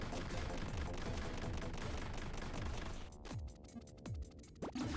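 Gunfire shooting robots in the video game Robozarro: steady rapid shots over a busy game soundscape, then a break into sparser bursts with descending tonal zaps and clicks toward the end.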